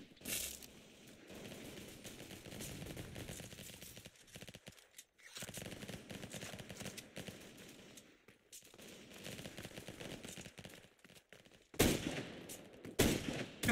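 Video game gunfire, with rapid bursts of automatic shots and sharp cracks coming in clusters, separated by short quiet gaps and ending in louder close volleys.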